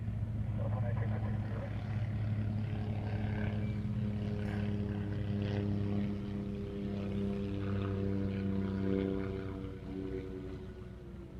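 An airliner takes off from a runway at Honolulu airport, a steady distant engine roar with droning tones that holds for several seconds and then fades slightly, while radio chatter runs over it.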